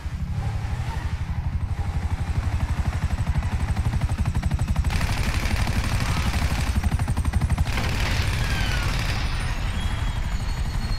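Sustained gunfire in a GTA 5 firefight, dense rapid clatter of shots running continuously and loud throughout, with a helicopter's rotor drone mixed beneath.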